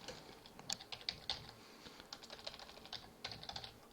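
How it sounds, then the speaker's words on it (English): Rapid keystrokes on a computer keyboard, clusters of close, crisp clicks in uneven bursts with short pauses, fairly quiet and alone without any voice. "Let's try that again, type some typing."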